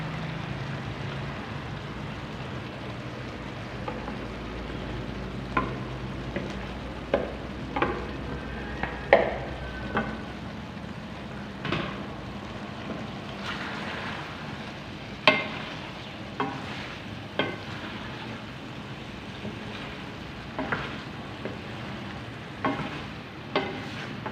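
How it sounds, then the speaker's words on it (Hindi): Fried cauliflower pieces tipped into a pan for gobi chicken and frying, a steady low sizzle with spoon scrapes and clinks scattered across it, fairly quiet and close, no voices. "अब हम अपना फ्राई हुआ गोभी डाल देते हैं।"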